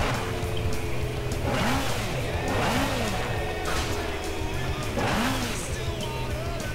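A car engine revs and surges continuously in the racing video game Burnout Paradise, with rising and falling engine tones looping several times over steady road noise.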